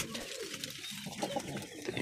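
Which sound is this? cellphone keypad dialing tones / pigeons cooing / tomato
pigeons cooing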